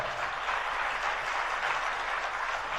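Dense, even applause from an audience at a Jain religious class with Munishri Suvratsagar Ji Maharaj in Damoh, a steady wash of many hands clapping together without speech.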